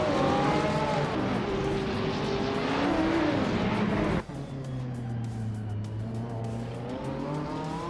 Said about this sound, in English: Prodigy Place 58 is racing an Audi R8 LS from 2016